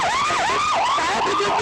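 An ambulance siren wails in a continuous rising and falling sweep, loud and close, with no voices, near a hospital after the Air India plane crash in Ahmedabad.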